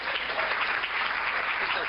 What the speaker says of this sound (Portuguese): Dá um aplauso bem forte para a palavra do Senhor.